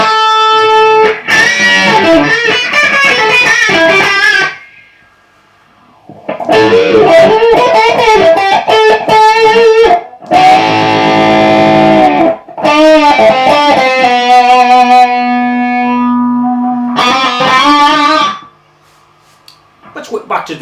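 Electric guitar played through a Fulltone WahFull fixed wah pedal in its shaft mode, driven through an amp: loud bursts of thin, tinny, nasal chords and riffs separated by short silences.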